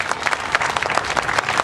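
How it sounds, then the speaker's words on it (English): A political rally audience gives a state senator a round of applause, a short burst of steady, crowded clapping heard up close and fairly loud. "Let's give Senator Thayer a round of applause."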